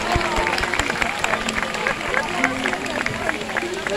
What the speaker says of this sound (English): If you ask them nicely, they'll give you a big round of applause.